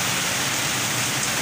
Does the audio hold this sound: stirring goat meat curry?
no